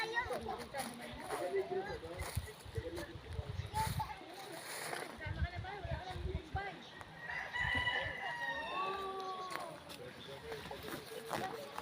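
Roosters crow and chickens cluck in the background of an outdoor scene, with people talking over them and occasional splashing.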